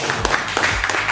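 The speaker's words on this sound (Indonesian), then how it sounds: "Oke, terima kasih, tepuk tangan." Short burst of classroom applause after a student's geography lesson reflection, a few close, uneven claps over a moment of noise.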